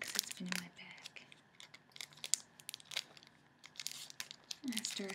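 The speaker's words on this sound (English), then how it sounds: "So these are powder paper, and I bought a little booklet of them." A small booklet of powder papers being handled up close, giving sparse crinkling and rustling bursts at irregular intervals, quiet and crisp, with no talking.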